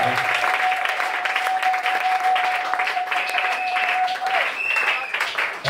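A church congregation applauds during a service. Steady, loud clapping from many hands fills the whole stretch, with a held musical tone beneath it.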